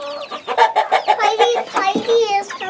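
Chickens on a small island farm cluck in a quick run of close, fairly loud calls while being given fresh water, with a brief louder squawk near the end.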